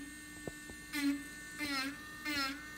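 An electric engraving pen carving wood at high speed, heard as a steady buzzing whine with three rising bursts as the tip bites into the grain, over a constant low mains-like hum.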